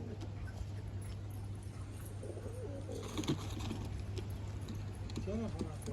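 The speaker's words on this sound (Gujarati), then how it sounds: "જો કબૂતર પણ છે." Pigeons at a horse stable that also keeps roosters give a few soft coos, faint under a steady low hum and distant muffled voices.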